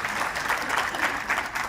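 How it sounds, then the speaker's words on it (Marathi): Audience applause at a live anchored stage event in Chinchwad, Pune, a steady patter of clapping held at moderate distance for under two seconds with no voices over it. "टाळ्या वाजू द्यात एकदा तुमच्यासाठी"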